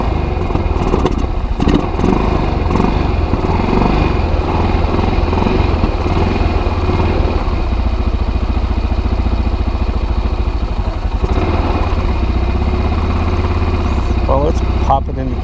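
A Kazuma Jaguar 500 4x4 ATV engine runs at a steady, loud idle with a continuous rumbling throb and light clatter, close by, without pause.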